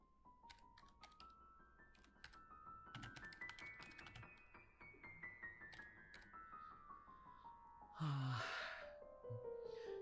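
Faint, irregular keystrokes on a computer keyboard tap away in a quiet room, with brief bursts of clicks and a soft breathy sound near the end.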